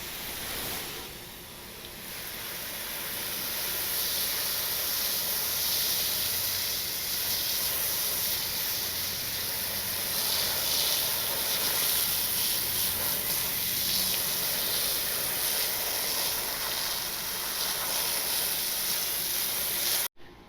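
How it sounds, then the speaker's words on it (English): A continuous hissing spray of water onto a dirty towel runs for about twenty seconds, steady and close, with a slight swell early on before cutting off abruptly. "I'm just gonna spray it off."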